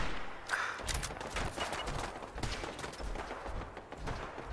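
Gunfire in a modded Fallout 4 comes in rapid overlapping bursts of shots, dense and crackling, at a moderate level throughout with no talking.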